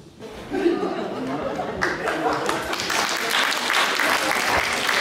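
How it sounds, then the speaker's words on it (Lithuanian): A large audience at a Women's Day celebration applauds loudly with dense, sustained clapping that swells after the first two seconds, mixed with crowd chatter and a little laughter. "O po paskutinio labai ploja"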